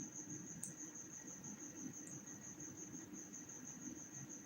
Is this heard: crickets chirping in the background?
yes